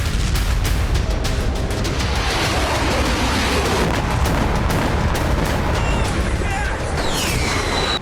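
War footage of missile strikes and explosions in Ukraine: a dense, loud, continuous roar of blasts and gunfire-like cracks, with sharp bursts scattered throughout and no pause.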